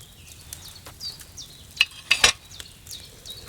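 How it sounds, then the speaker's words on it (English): Soft, quiet bubbling and gentle fizzing of a potion boiling in a cauldron in the video game Kingdom Come: Deliverance II, with a few sharper pops and clinks, steady and close. "Hear that bubbling? It's boiling."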